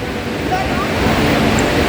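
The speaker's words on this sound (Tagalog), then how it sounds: "ang maririnig lang yung galaskas ng tubig" Steady, broadband rushing of a waterfall fills the clip, loud and close, with no pauses.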